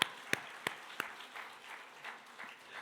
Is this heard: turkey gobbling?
no